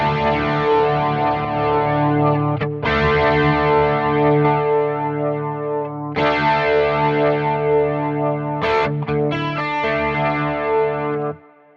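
Sustained distorted electric guitar chords through a Quad Cortex flanger ring out with a sweeping, swirling effect, loud and close, with brief gaps between strums.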